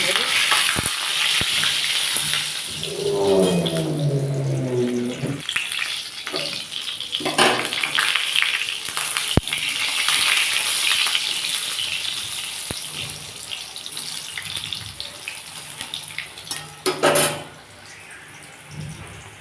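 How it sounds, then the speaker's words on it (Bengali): Green banana kofta balls frying in hot oil, a steady sizzle with occasional clinks and stirring, while a voice speaks briefly early on. "আমি তেলের মধ্যে এগুলো দিয়ে দিয়েছি"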